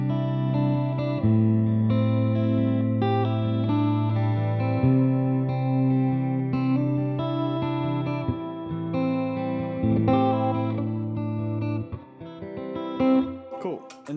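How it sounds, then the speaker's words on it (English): Guitar played through a pedal board set to a modulated reverb, sustained chords and notes shimmering with chorus-like wash, steady and close for most of the stretch before thinning into scattered plucks near the end. "So the favorite that I store is a mod reverb."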